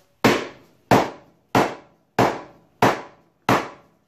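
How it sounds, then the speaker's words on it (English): A 3-pound dead blow hammer drives a fork seal into a Yamaha TTR 230 fork leg, six evenly spaced dull, heavy thuds with short decays, close and clear with no talking. "So now I have a 3-pound dead blow, and I'm just gonna"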